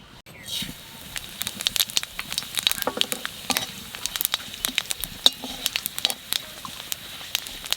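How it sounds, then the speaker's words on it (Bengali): A few cumin seeds fry in hot oil for a fish curry, giving a close, lively sizzle full of rapid irregular pops and crackles throughout, with no talking. "মাছের জলে দিবার জন্য এই কয়টা জিরে তেলের মধ্যে ভাজিয়ে উঠে রাখবো"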